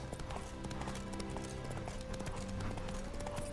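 Roach the horse's hooves clip-clopping in The Witcher 3 video game, a steady faint trotting patter under game music and ambient background sound.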